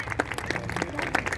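Audience at a stage contest programme on the fifth day of the Mahakauthik festival clapping for a contestant, a short burst of scattered applause with sharp irregular claps over crowd murmur.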